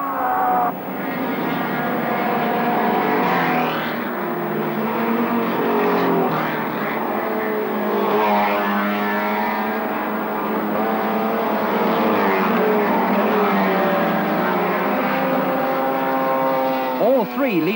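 Several touring cars, including a Ford Escort and Ford Capris, roar by in the 1971 Jarama 4 Hours race with rising and falling engine whines, loud and continuous, with pitch sweeps as they pass and accelerate.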